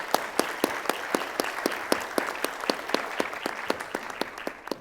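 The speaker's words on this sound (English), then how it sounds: "Can we get a round of applause?" An audience at a panel event gives a steady round of applause, many hands clapping in a fairly even rhythm at moderate distance, slowly thinning toward the end.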